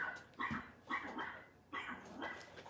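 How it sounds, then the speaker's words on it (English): A dog barking at the mailman, four close, sharp barks in an uneven rhythm with brief gaps between them. "he's barking at the mailman"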